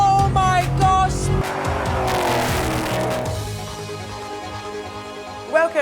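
A 1000-horsepower Ford Mustang drives hard, its engine roaring loudly and continuously with brief tire squeals rising near the end.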